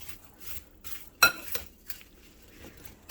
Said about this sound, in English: I'm going to mix that in with my apples